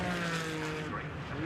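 Porsche Cayman race cars sweep past the pits at Brands Hatch GP circuit, a loud sustained engine roar shifting pitch as they pass close by, with commentary audible over it.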